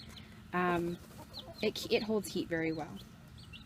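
Rooster and hens clucking at close range among a backyard flock, short bursts and calls mixed with someone talking over them.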